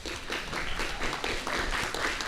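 Audience applause at a mayoral forum on streets, a dense steady patter of many hands clapping throughout at moderate loudness, with no talking over it.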